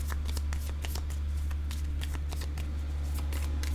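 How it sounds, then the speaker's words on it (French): Playing cards are handled during a card reading, giving a rapid run of light, crisp ticks and flicks over a steady low hum, close and fairly quiet, with no talking. "Je vais déposer une carte ici."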